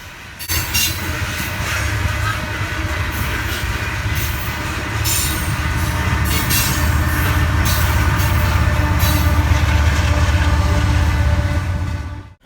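BNSF freight train rolls past with an AC44CW locomotive at the rear, a loud continuous rumble of wheels with rhythmic clatter and intermittent squealing, steady and close until it cuts off.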